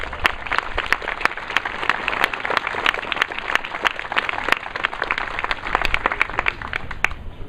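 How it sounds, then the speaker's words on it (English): A crowd at a Memorial Day ceremony in Latrobe, PA, applauds parade participants and the Color Guard with sustained, lively clapping and sharp individual claps standing out, loud and close. "everybody to join me in a round of applause for all the participants in the parade today"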